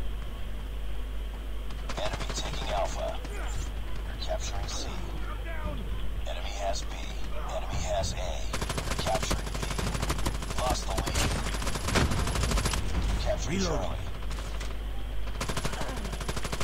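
Automatic gunfire rattles in Call of Duty Mobile during a Halloween match, in rapid bursts over steady game noise, while a voice talks over the shooting.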